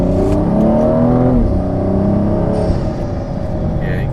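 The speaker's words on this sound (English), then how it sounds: "Yeah, you can definitely hear the intake right now." BMW 435i xDrive in sport mode fitted with a CTS Turbo intake, heard from the cabin as the engine accelerates with a steady, rising drone and whooshing intake noise, loud and continuous.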